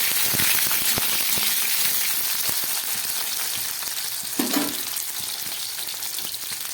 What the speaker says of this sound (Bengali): আমি এর মধ্যে কয়েক টুকরো ফুলকপি, সামান্য একটু ক্যাপসিকাম আর একটু টমেটো ভেজে নিচ্ছি